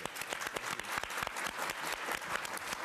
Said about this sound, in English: a really warm round of applause for yourselves and for them